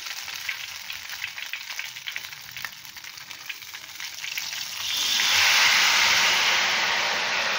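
Ghevar batter poured into hot oil fries with crackling, bubbling sizzle that swells into a loud, steady hiss partway through, close and continuous.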